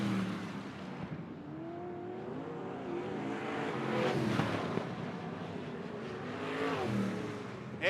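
Dwarf race cars roar around a speedway track on the final lap of a heat race, engines droning steadily with rising and falling revs as the pack passes, moderately distant and continuous.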